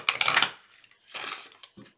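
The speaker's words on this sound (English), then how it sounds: "I need to shuffle one more time." An oracle card deck being shuffled by hand, with two quick riffling bursts of papery flutter and a few faint card taps between them, close up.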